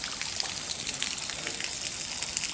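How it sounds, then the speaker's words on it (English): Water from a frozen-pipe flood pours out through doorways and down the stairs of an art class building, giving a steady, fairly faint splashing gush with no talk. "It was pouring out the doors, pouring downstairs."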